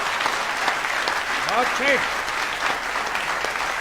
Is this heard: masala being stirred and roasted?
no